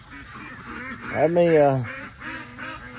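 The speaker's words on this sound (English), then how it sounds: "These ducks stay right on top of things if you let them." Ducks quack loudly and close by outdoors during a day of tree cutting and mowing, a burst of honking calls in the middle with someone talking around them.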